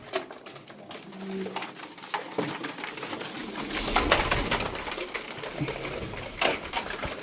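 Pigeons coo in low, rolling calls, fairly close, with wing flutters and shuffling among birds kept as fancy play pigeons.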